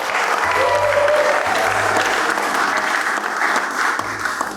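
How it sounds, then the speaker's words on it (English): Wedding guests applauding in a London chapel, a dense, loud burst of clapping from the whole room that holds steady throughout, with low murmurs underneath. "That deserves another round of applause."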